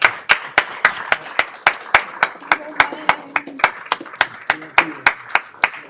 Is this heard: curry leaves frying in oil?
no